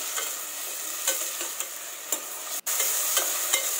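Tomatoes, green chili and salt fry in a pan with a steady sizzle, and a spoon scrapes and stirs them every second or so. The stirring knocks sound close, with no voices.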